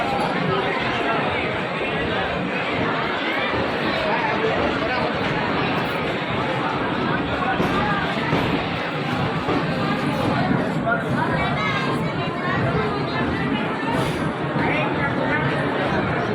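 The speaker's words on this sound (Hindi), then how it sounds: "भीड़ और शोर से अंदाज़ा लगा सकते हैं कि कितने लोग आते हैं यहाँ पे।" Dense crowd babble fills a busy Indian railway station, a steady wash of many overlapping voices and footsteps that holds at the same loud level throughout.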